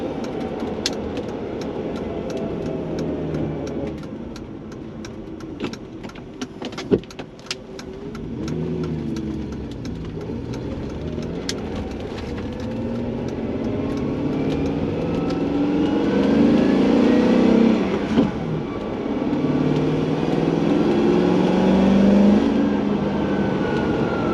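A V8 car engine with noisy lifters, warmed up to temperature, revs steadily close to full throttle, a loud continuous roar that swells and rises in pitch toward the end.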